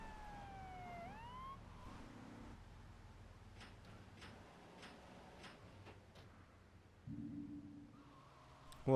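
A police car siren wails in the video game GTA III, sweeping up and down early on under ticking game sounds and engine hum, then fading as other effects take over.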